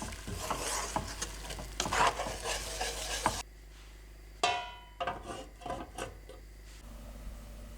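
Sliced onions stir and sizzle in a frying pan with salt, rosemary and a little water, with scraping utensil sounds over the cooking. A quieter stretch follows with intermittent stirring and clinks.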